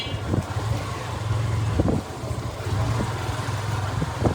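A motorbike ridden by Zakir carries its passenger along a main road past a district commissioner's office: a steady low engine drone with rushing wind buffeting the microphone and a few soft bumps.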